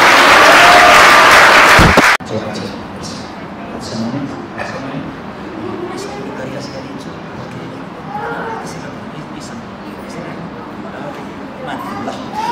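A wedding congregation bursts into loud, dense applause for about two seconds, then the clapping stops abruptly and a softer room murmur with scattered voices and small knocks carries on.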